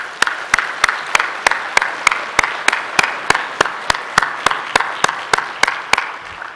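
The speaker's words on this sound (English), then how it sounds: "let's give everybody a round of applause" Steady, rhythmic clapping at roughly three beats per second over a soft wash of crowd noise, loud and close.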